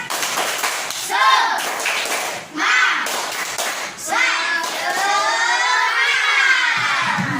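Schoolchildren at an Indonesian Islamic primary school doing a rhythmic spirit clap, loud patterned bursts of hand claps in groups with pauses between them, mixed with children's chanting voices close by.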